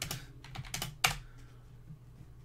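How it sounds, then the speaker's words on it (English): A handful of quick, close key presses on a laptop keyboard, ending in one sharper tap, then quiet. "Oops, I'm typing on the laptop."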